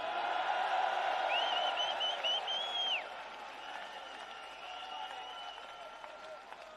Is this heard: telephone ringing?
no